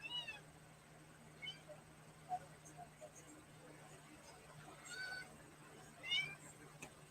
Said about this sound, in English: And now Zoe's gonna meow